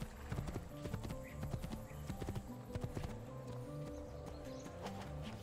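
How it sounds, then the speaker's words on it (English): Horse hooves from Assassin's Creed II pound in a quick galloping rhythm, close and clear, with a brief snort or whinny mixed in. "And the horse can gallop."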